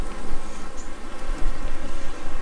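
Bees inside an opened hive give off a steady, close droning buzz, continuous and fairly loud, with a low rumble underneath and no voices.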